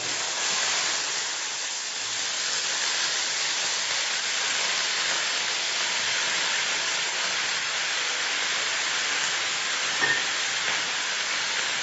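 Cut brinjal sizzles in hot sesame oil tempered with mustard seeds in a South Indian kitchen, a continuous loud, close, broadband frying hiss that holds steady throughout, with no voices.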